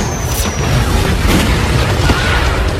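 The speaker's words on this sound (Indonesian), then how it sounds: "Dom menabrak mobil Brian sehingga ia kehilangan kendali." A street-race car crash from a Fast & Furious film: loud, continuous roaring noise with heavy booming impacts that fill the whole scene.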